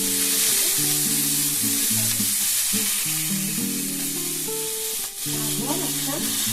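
Oil and a splash of water sizzle steadily on a hot pan while making a wheat-flour dosa, a constant close hiss heard beneath louder background music throughout.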